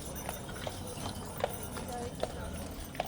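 Hooves of a horse-drawn carriage clip-clop steadily along a Christmas-lit Main Street in St Charles, evenly spaced and fairly distant, with a busy street hubbub underneath.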